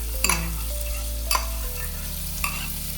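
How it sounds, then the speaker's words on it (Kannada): Finely chopped onions frying in butter with cumin for pav bhaji: a steady sizzle with a few sharp stirring clinks of a utensil against the pan, no voices. "ಇದಕ್ಕೆ ಆನಿಯನ್ ಹಾಕೊಂತ ಇದ್ದೀನಿ, ಸಣ್ಣದಾಗಿ ಕಟ್ ಮಾಡಿಟ್ಟಿರೋ ಆನಿಯನ್."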